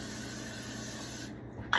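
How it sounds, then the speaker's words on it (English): Cooking spray hisses steadily from a can into a pan in one short continuous burst, close and fairly quiet. "let me get some spray real quick"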